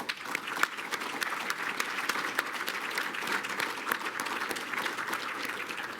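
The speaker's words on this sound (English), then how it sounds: "Please, a round of applause to our presenting sponsor, Orion Construction." Audience applauding a presenting sponsor, Orion Construction, at a Surrey Board of Trade business lunch; steady, moderately quiet clapping from a room of diners that holds evenly for the whole stretch.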